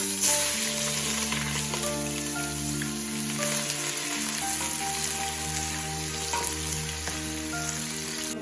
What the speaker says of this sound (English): So I'm going to add the onion into the pot.